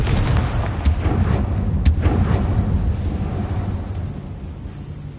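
A Confringo explosion spell in Hogwarts Legacy sets off a loud, rumbling blast with two sharp cracks, then a long roaring decay that fades gradually.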